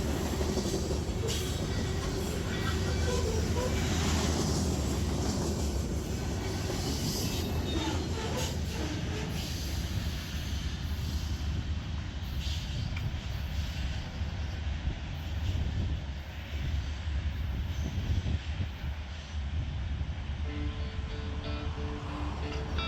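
A long freight train carrying paper products, lumber, steel coil and covered hoppers rumbles steadily past nearby, loud and continuous, with rattling cars and some metallic squeals throughout.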